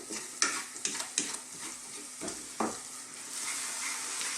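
Ingredients for a Bengali rohu fish curry fry and sizzle gently over low heat in a pan, with a steady hiss broken by several sharp scraping clicks of stirring, close up and with no voices.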